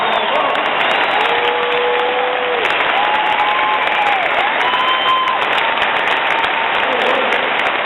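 Crowd at a university speech by Bill Clinton, applauding and cheering in a loud, continuous wash of clapping with shouts and whoops rising over it, close and filling the hall throughout.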